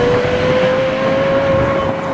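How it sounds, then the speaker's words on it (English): A Lexus LFA V12 drives along with a steady, sustained engine tone holding one pitch, loud and close, with no talking. "That is the best sounding car I've ever heard in my life."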